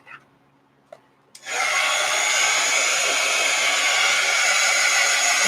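A hair dryer drying ink artwork in an art journal switches on after a couple of faint clicks, then blows as a steady, loud, close whooshing hum through the rest of the clip.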